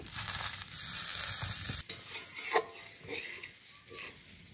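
Cashews and raisins frying in oil in a pan for Bengali bhog khichuri, with steady close sizzling for the first couple of seconds, then softer crackling and a few stirring scrapes.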